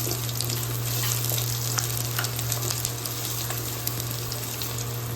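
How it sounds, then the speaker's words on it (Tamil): Ginger frying in hot oil in a pan gives a steady, loud, close sizzle that never lets up, with faint scraping now and then and no voices. "இஞ்சி போட்டு அது மாதிரி நல்லா பொன்னிறமாக செவந்து வரட்டும்"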